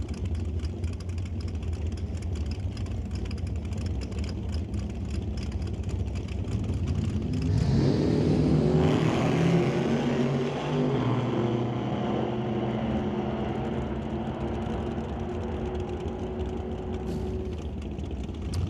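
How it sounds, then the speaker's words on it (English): A 638 cubic inch nitrous-assisted big block Chevrolet drag race engine drones loudly, then swells into a harsh, rising roar midway through as the car pulls away, holding a heavy rumble afterward. "638 cubic inch nitrous assisted big block Chevrolet"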